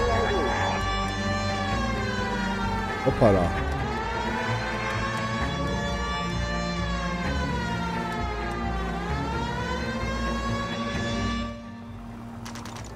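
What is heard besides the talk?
police car siren in video game L.A. Noire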